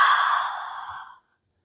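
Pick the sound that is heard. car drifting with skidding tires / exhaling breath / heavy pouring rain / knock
exhaling breath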